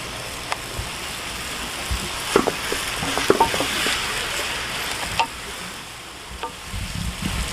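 Vegetables and fish cake being stir-fried for japchae in a pan, a steady close sizzle broken by a few sharp scrapes and clicks as the utensil stirs and tosses the food.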